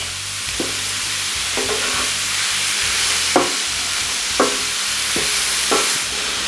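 Shrimp for street tacos sizzles in a hot pan, a loud continuous hiss of frying broken by several sharp metallic scrapes and clanks of stirring, close up and with no voices.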